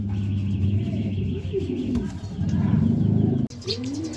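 Racing pigeons cooing in low, rolling calls, close by and steady, with a brief rustle or flutter near the end, at a derby race.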